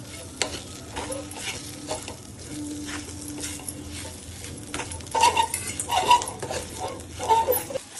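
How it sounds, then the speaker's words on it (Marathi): Okra (bhindi) sautés in a pan, a soft continuous sizzle under repeated stirring scrapes and clinks of the spatula, growing busier and louder toward the end. "ह्याच्यामध्ये आता आपण भेंडी टाकून घेऊया"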